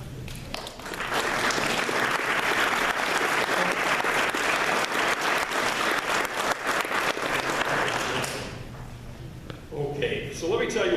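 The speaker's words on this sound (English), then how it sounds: "if you would please just rise so we can give you a round of applause" A gala audience applauds volunteers who stand, a sustained even round of clapping from a large room that fades after about eight seconds into quieter room sound and faint voices.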